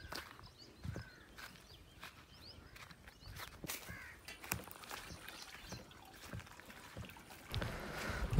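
Faint trickling and splashing water runs steadily into a tank, with scattered clicks and bird calls nearby, swelling into a louder gush near the end.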